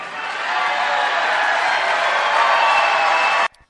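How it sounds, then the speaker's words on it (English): A crowd bursts into loud, sustained applause and cheering, a thick wall of clapping and whoops that holds steady for over three seconds and then cuts off abruptly. "It was 16 seconds with 14 seconds of applause."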